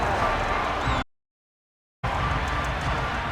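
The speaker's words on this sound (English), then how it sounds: "Well, the crowd doesn't like that." Stadium crowd noise from a Madden 23 football game simulation, a dense roar that cuts to a second of silence and then resumes at full level.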